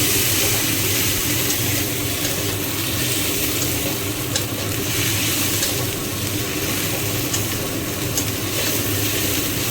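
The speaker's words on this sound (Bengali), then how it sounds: "তারপর এর মধ্যে মশলা ধোয়ার জলটা দিয়ে দেব।" Spice-rinsing water is poured into a hot pan of ginger paste being fried for Bengali chicken curry. A steady, loud hiss and rush of liquid meeting hot oil keeps going the whole time, even and unbroken.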